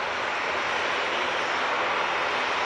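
An EasyJet airliner arriving from Belfast at Manchester Airport gives a loud, dense, unbroken engine roar, steady and close throughout.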